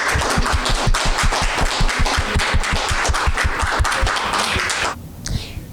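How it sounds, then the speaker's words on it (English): Audience applause at a panel discussion on women in law enforcement, loud dense clapping with sharp rapid claps that carries steadily for about five seconds, then cuts off abruptly into quiet. "So can we give them a round of applause?"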